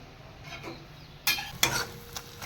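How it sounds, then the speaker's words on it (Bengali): Fish fat frying in a pan in a home kitchen, quiet sizzling with a few sharp stirring scrapes and clinks of a utensil near the end, close and faint. "এই মাছের তেলটা ভাজা করছি"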